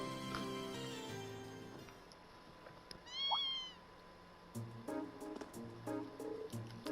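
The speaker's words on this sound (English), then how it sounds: "What's a kitten doing here?" A kitten in The Legend of Heroes: Trails of Cold Steel II gives a single rising, plaintive meow, heard alone over soft game music with faint chimes.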